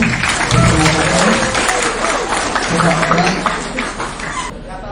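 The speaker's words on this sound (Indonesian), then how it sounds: "Tolong aplaus untuk Mbak Novi" Crowd applause from an audience at a personal development seminar, a dense steady clapping that fills the room for several seconds before easing slightly near the end.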